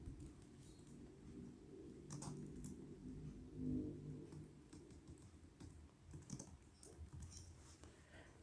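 Member data being typed on a computer keyboard into library software: faint, quiet keystrokes pattering irregularly throughout, with no voices.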